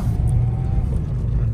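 Road traffic at night after midnight in Kalyan rumbles steadily close by, a continuous car engine drone with low rumble and no talk.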